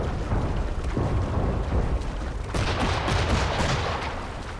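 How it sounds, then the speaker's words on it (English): Cannon fire in the Assassin's Creed III battle mission "Beginnings of a Revolution" booms and crackles in dense, overlapping blasts, loud and continuous, with heavier volleys building in the second half. "Connor running past the cannon fire"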